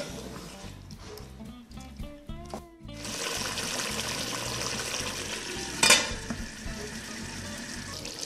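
White chicken karahi with ginger, black pepper and yogurt cooking down in a pan: a few clinks and pours early, then a continuous bubbling sizzle with one brief sharp clatter near the end.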